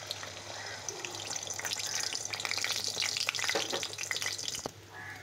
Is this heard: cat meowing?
no